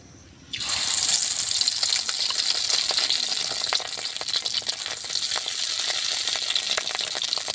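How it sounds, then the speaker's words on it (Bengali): Fish roe fritters sizzle in hot oil, a loud, steady frying hiss with scattered crackles that starts abruptly and continues without talk. "বড়াগুলো ভেজে নেব"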